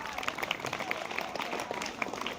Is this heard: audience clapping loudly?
yes